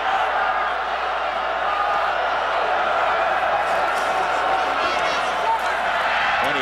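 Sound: football stadium crowd hollering for a flag

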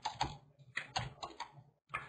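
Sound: typing on a computer keyboard

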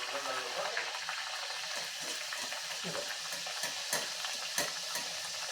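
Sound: puri frying in hot oil on medium flame

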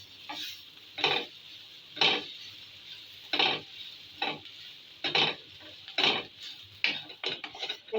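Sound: stirring roasted flour into chicken patty filling in a pan

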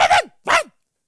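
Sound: person imitating a dog barking

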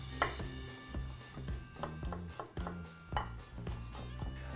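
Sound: knife chopping garlic on a board

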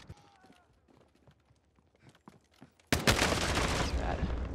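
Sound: gunfire in the video game Call of Duty

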